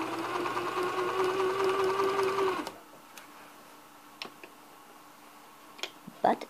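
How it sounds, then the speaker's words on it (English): A sewing machine stitches scallops into fabric, whirring steadily for a few seconds before it stops. Scattered soft clicks and handling noises follow in the quiet. "So I'm on to sewing scallops here."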